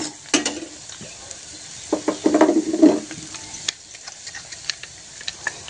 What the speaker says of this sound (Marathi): आलं लसूण पेस्ट घालून घेऊया